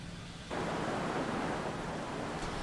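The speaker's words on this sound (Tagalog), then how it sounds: "Buong gabi na binayo ng malakas na hangin at ulan ang Kasiguran dito sa Aurora." Steady, heavy roar of wind-driven rain through the night in Casiguran, Aurora, Philippines, broadband and constant, jumping louder after a quieter first half second.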